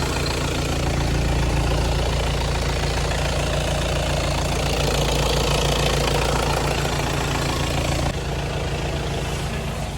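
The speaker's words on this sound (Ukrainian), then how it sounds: "Двигун працює м'якенько, рівненько ніяких лишніх звуків не чути." A 2018 Volkswagen Tiguan 2.0 TDI diesel engine idles steadily close by, a constant low rumbling chug with a slight knocking rhythm, no voices.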